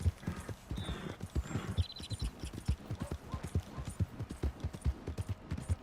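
Horse hooves clip-clop at a steady walking rhythm in Red Dead Redemption 2, fairly close and clear, with a few faint high chirps above and no talk.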